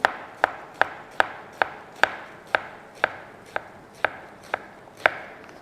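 A knife chopping an onion on a cutting board, twelve crisp, evenly spaced knocks at roughly two per second, close and clear against a quiet background.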